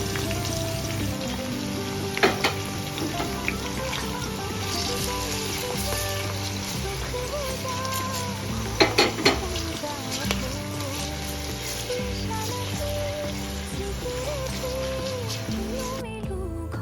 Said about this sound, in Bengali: এভাবেই কিছুক্ষণ পেঁয়াজটাকে ভেজে নেব।